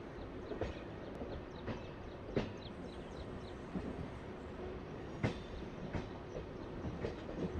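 A MEMU passenger train rolls slowly into the loop line at Bhimavaram Junction, heard from on board: a steady rumble with irregular clickety-clack wheel knocks over rail joints, continuous and fairly close, with no voices.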